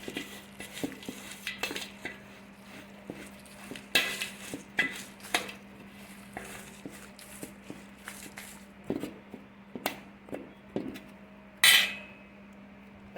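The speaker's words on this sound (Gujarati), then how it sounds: "હવે આપણે બધુંને મિક્સ કરી નાખીએ." Pickle ingredients are mixed and coarsely crushed in a kitchen vessel, with irregular clinks, knocks and scraping taps of metal against the pot over a steady low hum, one sharp clatter near the end.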